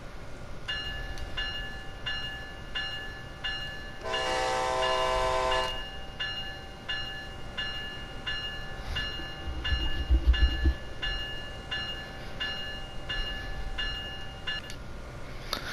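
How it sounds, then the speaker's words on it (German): Train departing in Train Sim World on PlayStation 4: a steady electric hum with tonal whine, a loud two-second horn blast near the start, then a low rumble and thump as the train moves off, with no voices. "Der Zug fährt ab."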